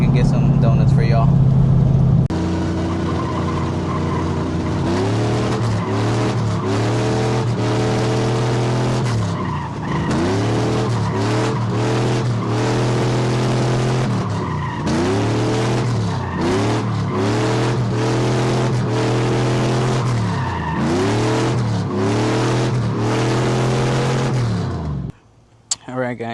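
A Chevy Silverado with a 6.0 V8 and a five-speed swap is heard from inside the cab doing donuts. The loud engine revs rise and fall repeatedly over continuous tire squeal for about twenty seconds, then stop abruptly.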